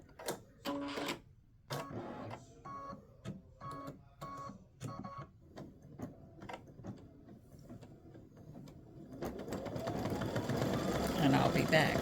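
An embroidery machine stitching star shapes onto a patriotic mug rug: rapid clattering bursts and ticks at first, settling into a busier, denser mechanical rattle that grows louder toward the end, close by.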